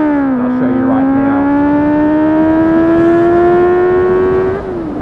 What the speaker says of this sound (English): your bike sounds amazing. And I'll show you right now.